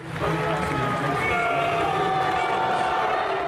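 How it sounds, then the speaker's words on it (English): A baseball stadium crowd boos the president. A dense, steady roar of many voices sounds from a distance without letting up, with no single voice standing out. "Booing the president is something of a tradition."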